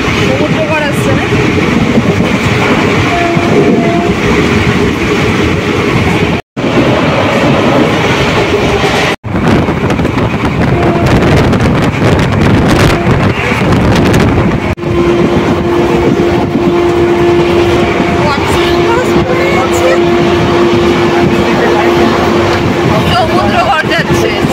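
13465 Malda Town Intercity Express running at high speed through open fields, a loud continuous rumble and rattle of wheels and carriages with brief sharp gaps, heard from on board with voices talking over it.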